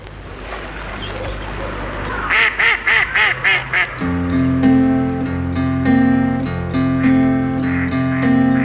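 Ducks at the pond in Trumpton Park give a quick run of about six nasal quacks, then gentle music takes over and continues to the end.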